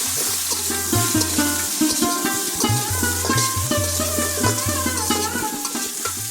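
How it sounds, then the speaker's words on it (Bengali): Potatoes and eggplant frying in a pan at an outdoor riverbank cookout, a loud steady sizzle with stirring scrapes and a rhythmic low clatter running throughout. "আলু একটু ভাজা হয়েছে, এখন বেগুন দেব।"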